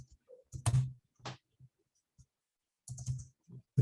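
A computer keyboard is typed on in short uneven bursts of clacking keystrokes, close and moderately loud, separated by pauses.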